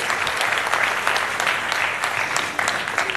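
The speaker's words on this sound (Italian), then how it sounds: "Eccolo qua, un applauso." Applause from an audience at a local evening talk event in Barga, Italy, a dense, steady clapping throughout at close range.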